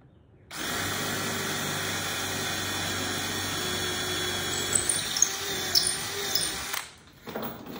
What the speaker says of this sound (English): as I'm prone to do, I'm gonna start with a smaller bit, and then we'll work our way up to that half inch.